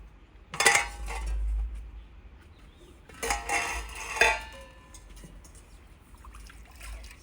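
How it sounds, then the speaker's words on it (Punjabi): Dishes are washed by hand in a Punjabi village home kitchen, with pots and cutlery clinking and clattering in two bursts and water trickling softly between them. "ਸੁਖਮਨ ਭਾਂਡੇ ਧੋਂਦੀ ਹੈਗੀ"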